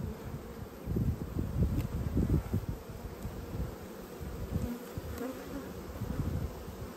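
Honey bees buzz steadily and close by while an Australian beehive is opened for inspection, a dense swarming hum with faint rustling of frames.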